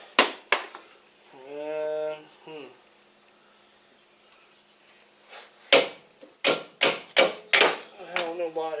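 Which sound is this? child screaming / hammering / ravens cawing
hammering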